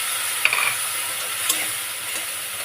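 Cumin and chili powder paste, soaked beforehand, fries with ginger in hot oil, giving a steady close sizzling hiss with a few faint clicks of stirring.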